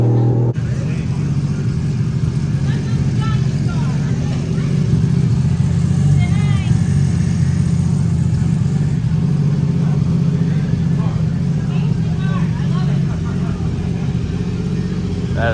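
Hot rod engines rumble and rev at a loud crowded car gathering, a dense continuous roar with voices talking throughout.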